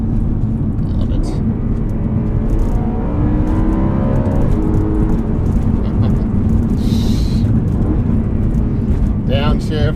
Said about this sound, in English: Downshift, rev match, into the corner.